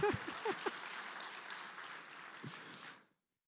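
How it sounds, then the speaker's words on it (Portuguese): Audience applause for the women at a Board Valley business event, a short burst of clapping in a hall that starts right away and fades out after about three seconds. "Palmas para as mulheres."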